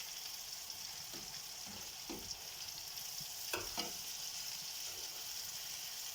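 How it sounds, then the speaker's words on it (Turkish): Steady sizzling of food frying in a pan, with occasional soft scrapes and taps of a utensil stirring. "Kızarmayan üzerine yeniden kızartalım"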